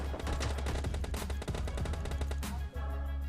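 Automatic gunfire in the mobile battle royale game PUBG Mobile Lite, loud rapid bursts of shots repeating almost without a break, with one short gap near the end.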